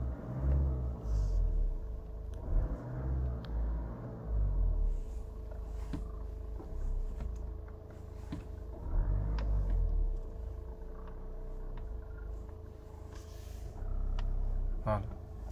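Volkswagen Golf MK7 engine with a clutch fault revving under acceleration: a steady low rumble swelling in several surges, with a faint voice briefly audible.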